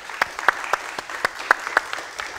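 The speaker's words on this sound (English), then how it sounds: "Round of applause for them all." Applause from a small workshop audience thanking the speakers, a sparse handful of distinct claps in a loose, uneven rhythm, fairly close and moderate in volume.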